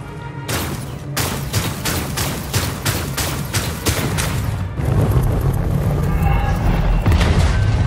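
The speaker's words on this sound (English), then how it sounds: "now we destroy the generator" In Outcast: A New Beginning, a generator is blasted apart with a fast series of heavy, evenly spaced booming impacts, followed by a louder rumbling crash and sustained roar in the final seconds.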